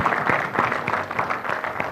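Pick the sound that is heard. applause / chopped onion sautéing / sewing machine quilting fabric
applause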